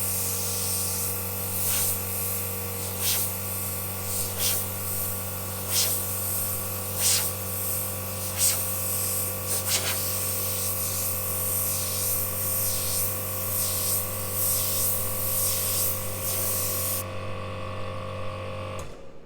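A small Iwata Maxx Jet airbrush compressor motor kicks in and hums and buzzes continuously as pressure drops, with rhythmic bursts of hissing air layered on top, until the hiss cuts out near the end.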